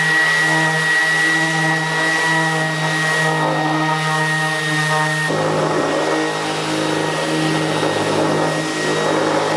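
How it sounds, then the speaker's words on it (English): An orbital sander runs steadily, smoothing high spots on an epoxy-filled reclaimed timber desk, a loud continuous whine with a slight shift in pitch partway through, no talking. "I'm just going to hit these high spots with the orbital sander"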